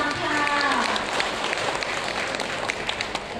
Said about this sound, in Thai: ขอเสียงปรบมือดังๆต้อนรับเจ้าบ่าวคุณธีรพัฒน์ตุ้มทองคำ